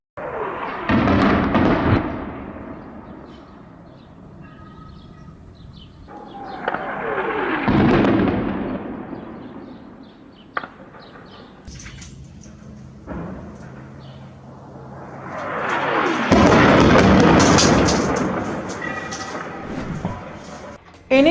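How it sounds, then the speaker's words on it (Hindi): Heavy bombardment with white phosphorus bombs dropped on Iraq by the United States: three loud rolling bursts, each a booming swell that tails off into rumble, with quieter crackling and pops in between. "देखिए फास्फोरस बम जो इराक पर अमेरिका के द्वारा गिराया गया था"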